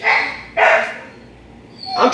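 A dog barks loudly nearby, a few sharp yaps with short gaps between them and no talking.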